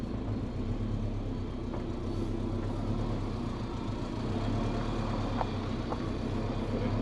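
A big-turbo Subaru Forester SF5 swapped to a six-speed manual drives slowly down a street in daytime, with a steady low engine drone heard from inside the cabin and faint clicks and shifts.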